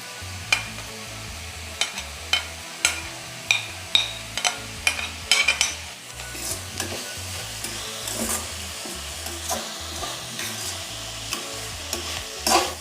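Sliced onion and carrot sautéing in a pan for Yippee noodles, a spatula scraping and knocking against the pan in repeated sharp strokes over a constant sizzle, close and fairly loud, with no talking.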